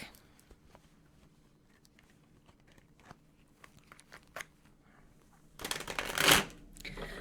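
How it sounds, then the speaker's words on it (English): Quiet scattered shuffling and light taps, then a burst of riffling card shuffles near the end, close and fairly loud. "So I'm going to shuffle real quick."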